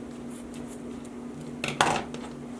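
Cords on a handmade adjustable dog collar being cut about half an inch up: a faint background hum, then a couple of short, sharp clicking snips close by, with no voices.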